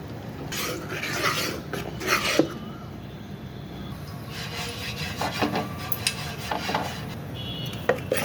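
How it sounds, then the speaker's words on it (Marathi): Grated jaggery and turmeric being stirred into a mixture, steady rubbing and scraping of a spoon against the vessel with occasional louder strokes, close and continuous with no talking. "आता हे ह्याच्यात मी मिक्स करून घेते"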